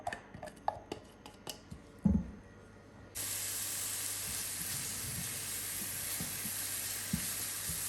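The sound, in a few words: onion and chopped garlic frying in a pan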